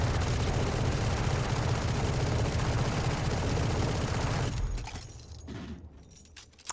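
An AK rifle in the Valorant video game sprays continuously in a dense, loud, rapid stream for several seconds, then stops abruptly, leaving faint clicks and a quieter tail.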